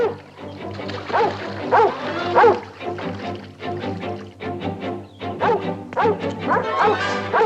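A dog yelps and whimpers repeatedly after rocks are thrown at it, high pitched cries in uneven bursts that are close and fairly loud, with a low steady hum underneath.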